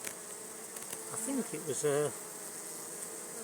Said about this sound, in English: Nice lot of bees here.